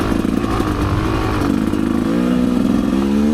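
Rieju MRPro 300 motorcycle engine revving while climbing a hill, a close, loud, uneven buzzing drone with rising and falling pitch and some clatter.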